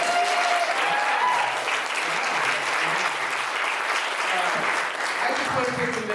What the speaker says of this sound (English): can we get a round of applause for our speakers?